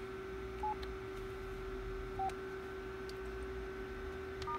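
Keypad tones on a Neo 3600 phone entering an unlock sequence: three short, spaced beeps over a steady electronic hum, quiet and close, with no voices.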